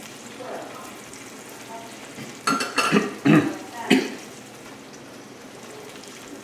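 Heavy cream poured into a pan of sautéed salmon and mushrooms, a soft sizzle with a few short bursts of liquid hitting the hot pan and some utensil clinks, otherwise quiet.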